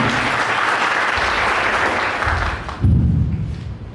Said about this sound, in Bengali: সবাইকে অনুরোধ করবো স্যারকে করতালির মাধ্যমে স্বাগত জানাবেন